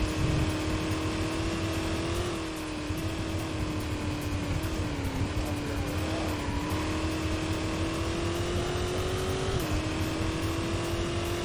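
Tube-framed Porsche race car in the video game Sports Car GT, its engine a steady loud high-pitched drone held near constant through cornering, pitch dipping briefly and climbing again on the shifts.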